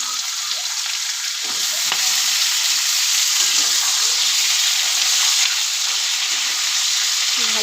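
Cubed potato and eggplant fry in hot oil with nigella seeds and green chili, giving a loud, steady, close sizzle that carries on without a break.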